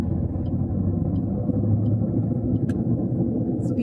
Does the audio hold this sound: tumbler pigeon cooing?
no